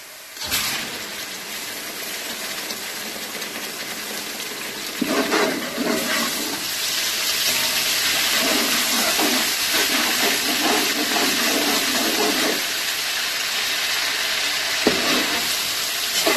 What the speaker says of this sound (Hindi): अब हम लोग इसमें लहसुन अदरक की पेस्ट डाल देंगे।